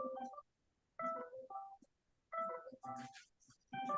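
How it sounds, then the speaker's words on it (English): Phone reminder alert during a livestream, a short run of electronic beeping tones repeating in brief bursts with gaps of silence between them, fairly quiet and close. "is that someone's phone?"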